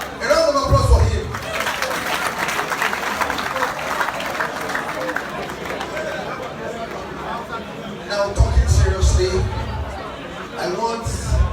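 A crowd at a Youth International Day gathering hosted by the Ooni of Ife claps and chatters. The applause is busy and mixed with voices, and a few louder low thumps come in near the start and end.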